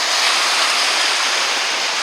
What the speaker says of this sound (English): With the waves going in and out, it actually looks lower.